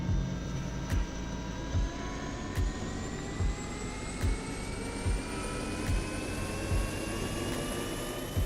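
A helicopter flies in the video game DayZ, a steady mechanical whine with slowly rising tones over a low drone, punctuated by regular soft rotor thumps under a second apart, moderately quiet.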